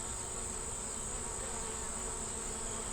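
Honey bees buzz in a dense, steady drone from an open hive with a three-year-old blue-marked queen, close and continuous throughout.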